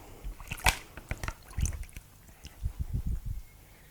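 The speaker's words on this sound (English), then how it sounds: "I'm just going to add the ice to it" Ice is dropped into cold water for a lye solution in soapmaking, a string of close clinks, plops and small splashes in irregular bursts.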